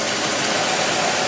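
Car engine idling close by with a cylinder misfire, a continuous rough, steady drone with no talk.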